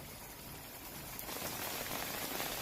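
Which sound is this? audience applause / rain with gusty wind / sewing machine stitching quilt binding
rain with gusty wind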